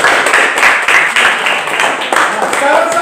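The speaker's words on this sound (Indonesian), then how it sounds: "Mari kita tepuk tangan." Students in a classroom clap together in a short burst of quick, uneven hand claps, close and fairly loud, with voices mixed in.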